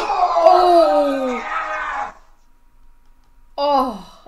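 A man cries out loudly in pain after a fall, a long strained wail lasting about two seconds, then a short silence before a second pained yell rises again.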